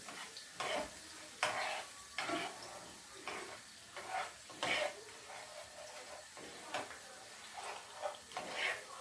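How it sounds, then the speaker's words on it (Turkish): Vermicelli toasting in a pan while a spoon stirs it, with a soft sizzle under repeated scraping strokes against the pan at an irregular rhythm, close but fairly quiet. "Şehriyelerimi kavuruyorum"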